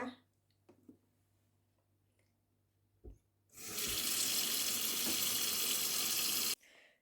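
A kitchen tap runs steadily into a sink for about three seconds while Swedish wild garlic is given a final rinse, loud and close, with faint clicks and handling noises before it and a quiet tail after the water stops.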